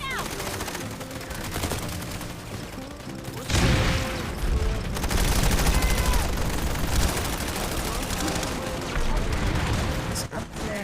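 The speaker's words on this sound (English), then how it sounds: "It's a grenade that hit me." In the Planetside 2 video game, a battle rages with rapid bursts of gunfire and a loud grenade blast partway through, followed by sustained shooting and mechanical clatter, close and loud throughout.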